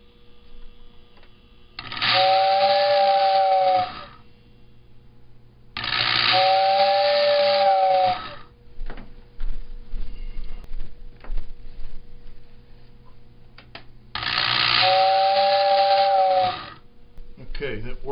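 1955 Lionel 2016 model train coal tender whistle, three separate hissing, breathy toots of about two seconds each, close and fairly loud, with quiet mechanical whirring between them.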